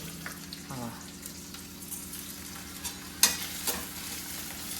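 Whole spices such as cloves roasting in a hot pan for Sunday mutton chops, a continuous crackling sizzle with occasional stirring scrapes and a sharp clatter near the end, a low hum running underneath.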